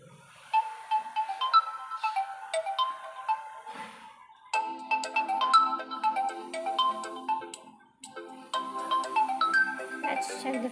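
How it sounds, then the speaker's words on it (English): A realme narzo N55 phone plays a bright, melodic ringtone of plinking electronic notes in repeating phrases. It pauses briefly and then resumes with a fuller layered arrangement, playing clearly and fairly close. "Here's the ringtone."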